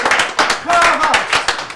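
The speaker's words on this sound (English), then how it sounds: "Applause!" A few people clap in quick, uneven bursts close by during a casual food tasting, while excited voices talk and cheer over the clapping.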